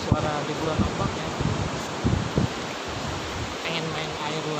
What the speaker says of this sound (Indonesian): Suara ribuan ombak ya